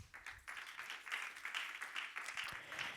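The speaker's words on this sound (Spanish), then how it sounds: "Pueden tomar asiento dándole unas palmas al Señor" A church congregation clapping as they sit down, a soft, fairly distant patter of many hands with uneven rhythm that swells and fades across the few seconds, recorded quietly.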